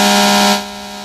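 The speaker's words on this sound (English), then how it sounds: "The air horn sounded off outside the home in the 600 block of Bellbrook Avenue in Xenia." A fire truck's air horn blares at a house fire on a residential street, one loud sustained harmonic blast that cuts off about halfway and leaves a quieter lingering tone.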